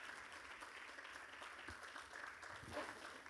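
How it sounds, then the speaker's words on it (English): Quiet, far-off applause from a conference audience welcoming a traditional ruler to a governance panel, a soft steady patter with a faint voice briefly audible underneath. "A round of applause."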